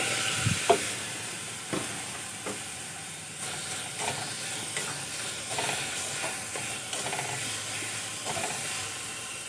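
Sugar and a little water cooking into caramel in a pan, a continuous soft bubbling hiss broken by occasional scrapes and taps of a spoon.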